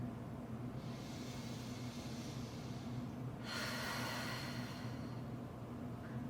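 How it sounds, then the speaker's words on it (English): Deep breathing exercise, one long audible inhale followed by a stronger, louder exhale, close and alone over a low steady background hum. "Big breath in. Exhale out."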